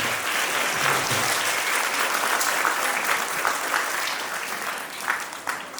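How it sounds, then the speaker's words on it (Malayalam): An audience at a school opening and convocation ceremony claps loudly and continuously, a thick, close wash of many hands that holds steady before thinning slightly at the end. "നന്നായിട്ടൊന്ന് കൈയടിക്കാമോ?"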